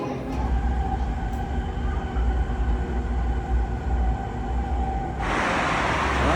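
Riyadh metro train interior rumble, a loud, steady low roar of rolling wheels and motors that turns brighter and hissier near the end as the train's sound shifts.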